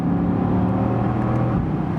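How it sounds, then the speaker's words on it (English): A Mercedes-AMG GT C Roadster, a 557 hp convertible, drones loudly and close under a steady engine note, with a few faint exhaust pops flickering over the rumble during an upshift. "when I give it a little upshift, we also hear this plopping from the exhaust"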